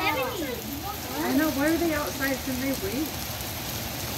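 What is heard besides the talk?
rain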